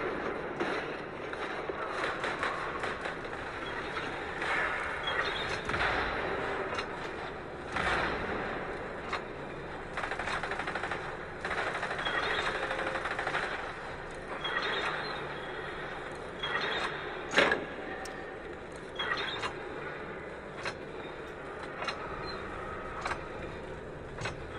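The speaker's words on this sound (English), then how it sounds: "The cogs are between 5 and 9 clicks. When you hear that bang, it is locked in place." Cogs in a video game boss fight click and clack repeatedly in irregular runs of mechanical ratcheting, with occasional sharper bangs, moderately loud over a busy game background.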